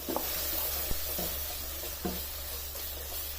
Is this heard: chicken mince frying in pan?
yes